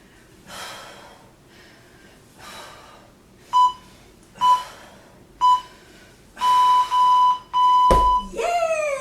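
A workout interval timer beeps in the closing seconds of a fitness session: three short separate beeps, then two longer tones and a final descending alarm sound. Heavy breathing from the exercise comes before the beeps.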